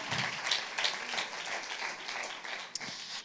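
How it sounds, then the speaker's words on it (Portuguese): Church congregation applauding Jesus, a soft, continuous wash of distant clapping that stays even and faint throughout, with no clear voices over it. "Vamos aplaudir a Jesus?"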